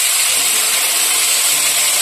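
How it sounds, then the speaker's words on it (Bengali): Vegetables fry in hot oil with salt and turmeric, a steady, loud broadband sizzle and hiss that holds evenly from start to end with no talking. "তো সবজিটা এখন ভেজে নেবো নুন আর হলুদ দিয়ে।"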